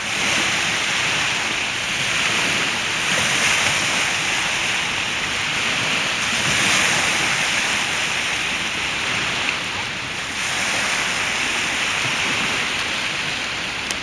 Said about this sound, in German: Oh, und wieder Wellengang hier.